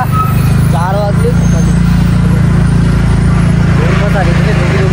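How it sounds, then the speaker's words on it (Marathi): A village bus pulls in around four in the afternoon, its engine a steady low diesel drone that runs throughout while people talk close by over it. "गावाकडची बस आली."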